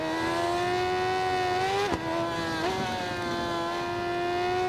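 A Suzuki Katana motorcycle races on a track, its engine a high, steady whine that holds near-constant pitch, with two brief sharp dips as if shifting, alone without talk.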